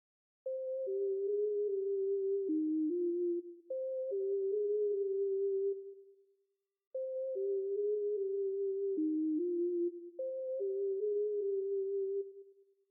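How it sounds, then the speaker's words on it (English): A Spooky Lead synth preset plays a slow, pure-toned melody in FL Studio, four phrases of sliding, sustained notes with short gaps between them, clean and alone. "I'm using the Spooky Lead preset and it will sound like this."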